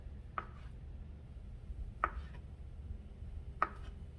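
Three separate knife chops through sweet plantains on a cutting board, each a crisp thud spaced well apart over a quiet background hum.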